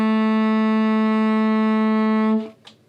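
A single sustained low tenor saxophone note held steadily for over two seconds, then cut off, followed by a faint breath or click.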